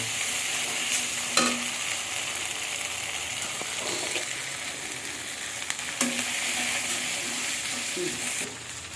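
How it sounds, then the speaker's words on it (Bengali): Raw peanuts fry in a pan: a constant bright sizzle with occasional sharp scrapes and knocks of a spoon, moderately close, with no talking. "কাঁচা বাদামটা ভেজে দিয়েছি এখন ভেজে নিতে"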